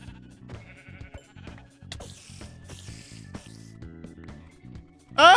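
Sheep in the video game Minecraft bleat amid busy in-game sounds and music, giving short, moderately loud bleats mixed with other game effects, ending in a sudden loud burst.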